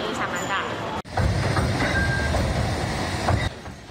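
The small train of the Alishan Forest Railway in Taiwan's mountains runs past with a loud, close rumble of wheels and carriages, brief squeals and clicks. A voice talks over it.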